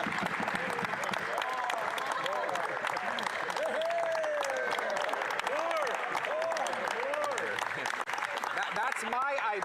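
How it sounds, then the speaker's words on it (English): Applause fills a committee hearing room, a dense wash of clapping that runs steadily throughout. A voice is audible over it for most of the stretch. "I promise, by the way, to be conservative in my remarks if you promise to be liberal in your applause."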